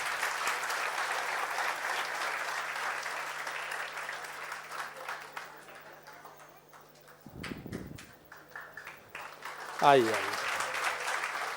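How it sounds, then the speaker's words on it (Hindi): An audience at a ceremony for a UPSC topper claps to welcome a guest arriving, steady applause that thins out midway, with someone talking over it and a short burst of noise near the end. "तालियों से स्वागत करिए इनका।"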